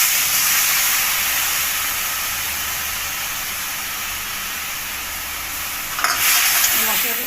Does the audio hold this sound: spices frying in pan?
yes